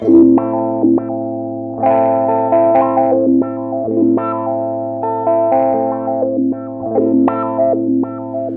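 An electric guitar plays a melodic line through a Beetronics Zzombee Filtremulator sweeping filter pedal in Mad Mode, filter movement paused and restarted, a steady low drone underneath, the tonal movement rising and settling across the phrase.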